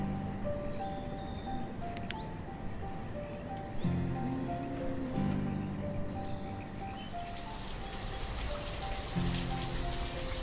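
Rain falls steadily in the video game Banished, a soft continuous patter heard over quiet background game music, with no voices.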